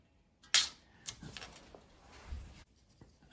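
A tool scoring a line into thin sheet steel from a roast pan, guided along a steel rule: a sharp scrape and click followed by a short dragging scratch, close and alone.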